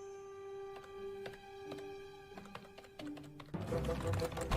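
Typing on a holographic keyboard, a series of crisp, quiet taps at an uneven rhythm over a sustained synthetic tone, joined near the end by a louder, busier burst.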